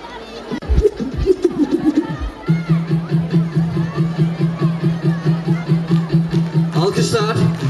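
A concert audience claps in a steady rhythmic beat, loud and continuous, after some brief cheering and scattered crowd voices at the start.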